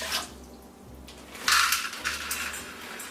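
Water is poured into a pot of rinsed brown rice in a home kitchen, with short splashy bursts that come and go over a few seconds, fairly close and moderately quiet.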